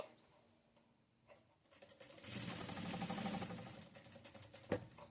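A sewing machine stitches a child's top, running in one steady, fairly loud burst of a couple of seconds mid-clip, with quiet handling and faint clicks before and after.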